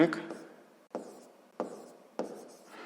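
A pen writes a math equation by hand for a grade 6 problem. There are four distinct, evenly spaced strokes on paper, each a short scratch that fades, close and fairly quiet, with a speaking voice at the very start.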